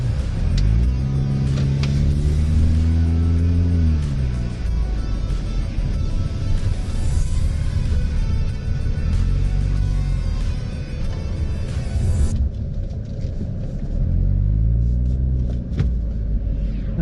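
A 2004 Audi A4 swinging through a U-turn on the road, its engine loud and close, revving up and easing down in smooth sweeps with a steady rumble beneath and no talk.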